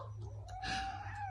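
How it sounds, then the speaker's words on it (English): A cat gives a single faint meow that rises and falls, drawn out over about a second against a low background hum. "Yeah, keep meowing."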